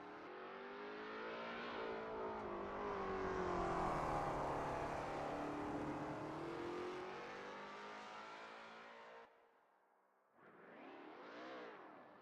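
A Lola T70 MkII Spyder race car on a practice lap at Spa, its engine revving up and holding a loud, strained drone as it passes close, then a brief lull before it picks up again.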